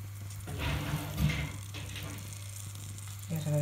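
Meat frying in a splash of olive oil in a pan with salt, garlic and onion, giving a steady close sizzle with brief bursts of louder crackle as food is stirred or added.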